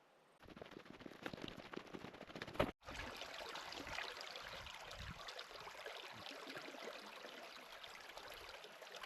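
Water of Duck Creek rushes in a steady, faint broadband wash along an alpine walking track, with a brief sharp knock partway through.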